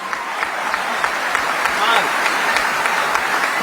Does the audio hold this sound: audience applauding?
yes